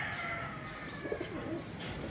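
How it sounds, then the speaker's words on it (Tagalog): Soft, low pigeon coos drift through a steady background hiss, a couple of brief murmuring calls near the middle. "Yan mga kalapati natin"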